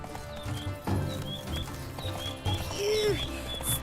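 A horse's hooves clip-clopping in the video game The Witcher 3, a close steady trot of hoofbeats with birdsong and a brief whinny-like tone in the background.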